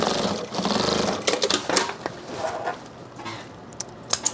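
A sewing machine stitches a drop liner tote bag in quick bursts of rapid mechanical whirring, pausing briefly between runs, close and fairly loud with no talking.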